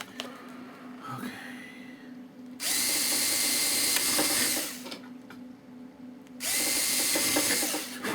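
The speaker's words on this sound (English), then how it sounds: "let's use our little electric drill." A small electric drill whirs in two loud bursts of a couple of seconds each, with quieter workshop handling noise between them, close and without speech.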